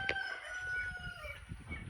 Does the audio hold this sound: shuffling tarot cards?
no